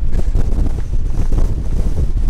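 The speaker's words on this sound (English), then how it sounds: "Oh, bonkers wind, man." Strong, gusting wind on a mountain hike in the Lake District buffets the microphone with a loud, continuous, rumbling roar that rises and falls without a break. No voices are heard.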